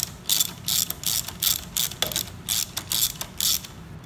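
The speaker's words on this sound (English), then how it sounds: "I'm just going to get in there and just give that a little bit of torque so it doesn't slide" Ratchet wrench lightly tightening handlebar clamp bolts on a BMW K1600GTL motorcycle, giving a steady series of quick, close clicking strokes in a regular rhythm with no talking.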